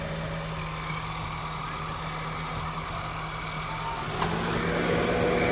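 A 2011 Honda Jazz GE8 RS facelift idles with a steady, smooth low hum that stays even throughout, heard up close with faint background hiss, with no talking.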